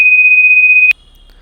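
A loud, steady pure-tone alert beep from a Python road accident detection program, holding for almost a second before cutting off abruptly into near silence.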